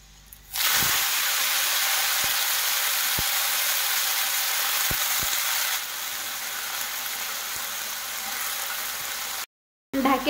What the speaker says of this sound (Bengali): এখন পোল্লা শাক দেবো।